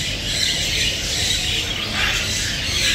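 Rainbow lovebirds and other caged birds at a street bird market in Baghdad's Adhamiya district, dense overlapping chirps and squawks forming a loud, continuous chatter close by.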